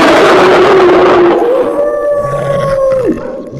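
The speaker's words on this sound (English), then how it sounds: "A howl that echoes through the night." A single long, loud canine howl rises, holds a steady wavering pitch, then drops away, sounding close and alone with faint background noise underneath.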